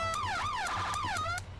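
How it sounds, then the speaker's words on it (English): Fire truck siren in GTA 5 with a firefighter mod, wailing in fast rising and falling sweeps that repeat several times, loud and close, then cutting off abruptly near the end. "We're turning the sirens off."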